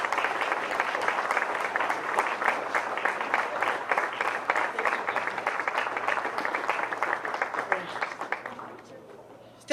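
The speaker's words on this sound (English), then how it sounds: "giving her a round of applause for this great Founders Award this year on behalf of the ACPC" An audience at an annual convention award banquet applauds a Founders Award recipient: steady, dense clapping from many hands that holds for about eight seconds, then fades out near the end.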